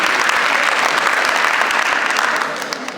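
Loud, dense audience applause at a student talent show, a sustained roar of many hands clapping that eases slightly toward the end.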